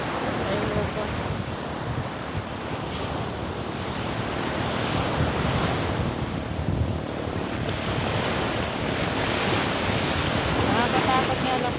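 Sea surf at high tide on a beach under an overcast sky rolls in as a continuous, loud wash of breaking waves, with steady wind buffeting the microphone throughout.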